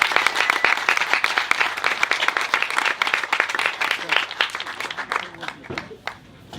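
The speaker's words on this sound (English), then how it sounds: "how about a big round of applause for Dan here?" A crowd at a lacrosse hall-of-fame ceremony gives Dan a dense burst of clapping that carries on for several seconds and then thins out, with voices mixed in underneath.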